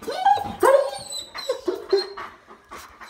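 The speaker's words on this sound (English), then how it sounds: "Let me go outside where the dogs aren't loud." Dogs inside a house bark, yip and whimper in short overlapping bursts, close and fairly loud, with a brief pause between outbursts.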